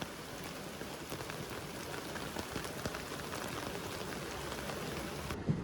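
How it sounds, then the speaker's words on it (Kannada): Heavy rain pours down steadily and close by on a Bengaluru street, a dense, unbroken roar of drops that stays constant throughout with no voices. "ಮಳೆ ಬಂದೇ ಬಿಡ್ತಲ್ಲಪ್ಪ, ಜೋರಾಗಿ ಹೋಯ್ತಾ ಇದೆ"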